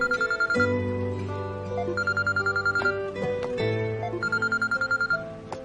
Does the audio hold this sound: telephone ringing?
yes